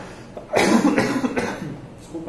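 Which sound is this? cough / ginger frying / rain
cough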